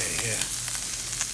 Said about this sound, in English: Let that sizzle up just nice.